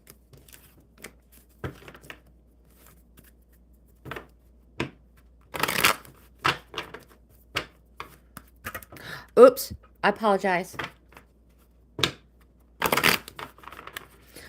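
A deck of oracle cards is shuffled in a series of crisp, sharp riffles and taps with quiet gaps between them, and someone speaks briefly partway through.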